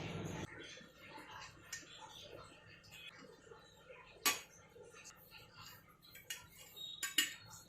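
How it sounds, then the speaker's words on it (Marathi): Coriander-cumin powder is spooned into a storage jar with faint, soft scrapes and light clinks of the spoon against the jar, scattered at an irregular rhythm and very quiet and close. "आता मी हे बरणीत भरून ठेवत आहे।"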